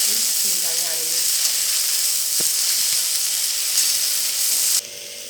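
Okra with peanuts and green chillies sautéing in hot oil gives a loud, steady sizzling hiss with a single spatula tap midway, cutting abruptly quieter near the end; a faint voice speaks briefly at the start.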